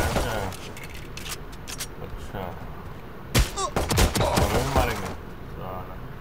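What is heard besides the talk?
pistol gunshots at training bots in video game Valorant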